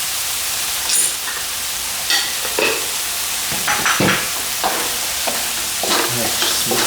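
Seasoning with white pepper and sugar stirred in a hot pan for salt and pepper squid, an even sizzle broken by repeated scraping strokes of the utensil, close and without talk.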